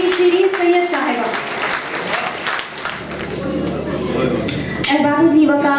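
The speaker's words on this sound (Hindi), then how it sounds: "तो आपकी भरपूर तालियों में तशरीफ लाएंगी शिरीन सैयद साहिबा।" Audience applause at an all-Pakistan mushaira welcomes a woman poet to the stage, a dense, sustained clapping from a seated crowd mixed with a voice talking over it throughout.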